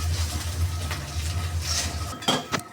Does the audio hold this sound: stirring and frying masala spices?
yes